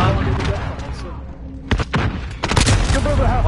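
Shotgun blasts in a video game come as a few sharp, heavy bangs, mostly clustered toward the end, with players talking over the action.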